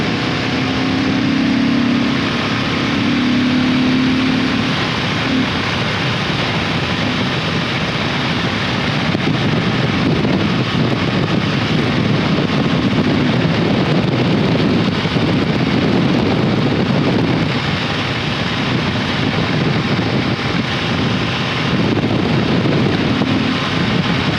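A Kawasaki KLR motorcycle engine with the airbox snorkel removed runs at a steady idle, a low continuous rumble largely buried under heavy, constant wind buffeting across the microphone.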